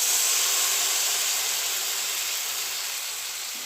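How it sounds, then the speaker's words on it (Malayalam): Blended tomato poured into a hot pan, producing a loud, steady sizzling hiss that slowly softens over a few seconds, with no voices. "മിക്സിയിലടിച്ച തക്കാളി ഇനി ഇതിലേക്ക് ഒഴിക്കാം."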